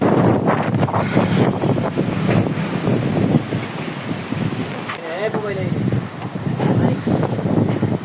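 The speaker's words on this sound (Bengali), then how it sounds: "অনেক বাতাস চলছে।" Strong wind roars and buffets the microphone continuously, with a voice speaking briefly partway through against the gusty rush.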